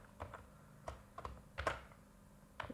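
Keys clacking on a computer keyboard while C code is entered, a sparse run of quick, close, quiet taps in small clusters with short pauses between them and no voice.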